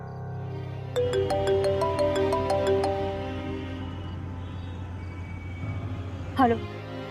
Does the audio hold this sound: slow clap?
no